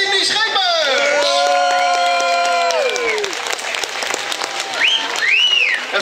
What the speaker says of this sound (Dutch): Dames en heren, een applaus voor Indy Schippers!